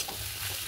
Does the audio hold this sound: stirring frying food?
yes